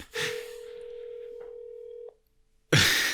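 A telephone call produces one steady tone held for about two seconds, then a short silence before a burst of noisy line sound.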